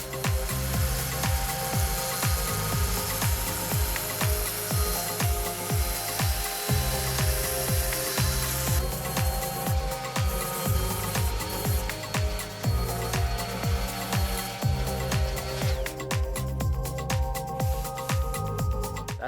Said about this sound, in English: I'm going to try using an orbital sander and a 60 grit piece of sandpaper just to get rid of the excess fiberglass material